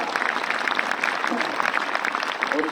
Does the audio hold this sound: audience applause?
yes